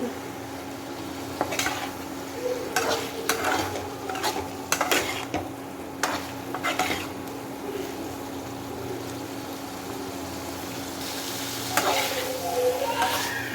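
Hilsa and pointed gourd being stirred and sautéed in a pan, a steady sizzle broken by sharp scrapes and clicks of the spoon against the metal, with louder stirring toward the end.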